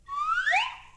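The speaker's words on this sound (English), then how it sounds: "Alakazoot, I'm a whistle." A single bright whistle sound effect on an old novelty children's record slides upward in pitch, with a second tone briefly joining before it tapers off, clear and alone for about a second.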